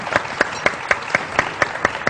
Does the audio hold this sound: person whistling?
no